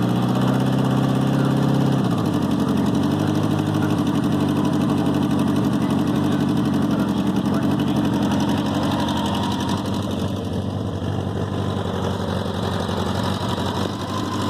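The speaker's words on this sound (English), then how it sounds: "Runs pretty good." A Honda GL1200A motorcycle engine is started cold with the choke on, then idles loud and close in a steady, even drone that shifts slightly in tone after the first couple of seconds.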